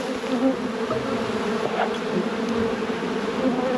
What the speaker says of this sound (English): How much bees there are flying into this box.